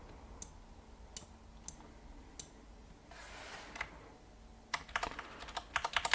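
Keystrokes on a computer keyboard while a website design is being edited: sparse single clicks early on, then a quick burst of close, crisp typing toward the end, with no voices.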